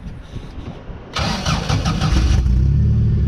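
Sand limo cruiser engine cranking over with fuel pump priming, then catching and firing up into a rough idle, close and loud with no talk over it.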